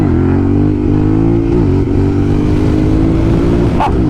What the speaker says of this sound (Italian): Ecco come impennare un Tenere.